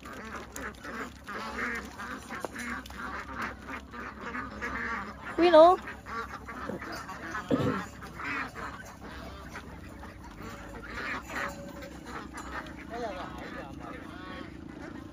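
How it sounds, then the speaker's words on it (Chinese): A flock of about forty farm ducks quacks in scattered bursts, with a couple of louder calls standing out, while someone talks over them almost throughout. "这鸭子跑惯了耶，在这里扎不住脚"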